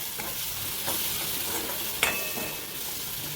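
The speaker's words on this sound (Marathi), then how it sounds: "मसाला टाकल्यानंतर आपण तोही तेलात फ्राय करून घेऊया" Spice masala of coriander, pepper and cumin powder frying in hot oil in a kadai, a continuous gentle sizzle with occasional stirring scrapes and one sharp metallic clink midway, no speech.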